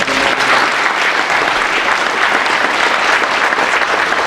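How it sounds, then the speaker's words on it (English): Loud, sustained audience applause at a school Veterans Day ceremony, dense clapping from a large crowd continuing steadily throughout. "Can I get another round of applause?"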